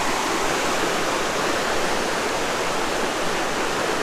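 Water rushing over a river weir, a loud, unbroken roaring wash heard up close and alone.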